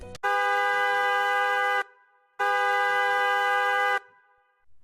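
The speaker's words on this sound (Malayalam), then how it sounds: "അതാരാ പുറമേ നിങ്ങനെ ഹോൺ അടിക്കുന്നേ?" Two long, loud, steady vehicle horn blasts sound just outside a house, each lasting about a second and a half, separated by a short pause.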